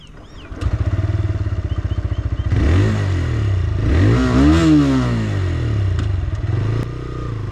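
A motorcycle with a refined, tuned engine, ridden up close: a pulsing idle gives way to repeated revs that climb and fall as the rider accelerates and shifts.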